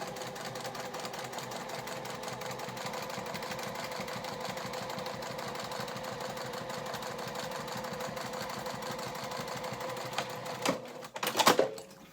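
A sewing machine stitches steadily while sewing a Moondance pattern, its rapid mechanical needle rhythm running continuously up close before ending in a short clattering burst.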